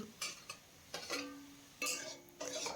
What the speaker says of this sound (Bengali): এখন এখানে যোগ করে দিতে হবে ভেজে রাখা আলু আর ফুলকপি।